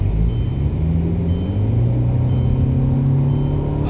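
A Mercedes-Benz C250 W204 engine pulls in Sport mode, with a loud, steady in-cabin rumble and a rising tone that climbs smoothly through the rev range without voices.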